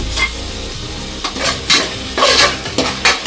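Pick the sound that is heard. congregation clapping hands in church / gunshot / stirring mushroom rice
stirring mushroom rice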